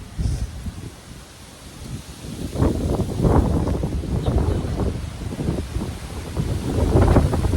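Strong outdoor wind gusts roar and buffet the microphone while garden plants are being staked. The low, rumbling rush swells and eases, then grows heavier toward the end.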